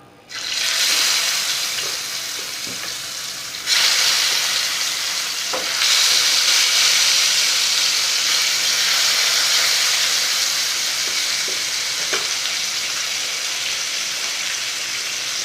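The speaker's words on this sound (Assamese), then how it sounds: "তেল গৰম হৈছে। এতিয়া মাছকেইডোখৰ দি দিছোঁ।" Pieces of silver fish fry in hot mustard oil in a frying pan, a loud, continuous close-up hiss and sizzle that swells as more pieces go in, with occasional soft clinks and no talking.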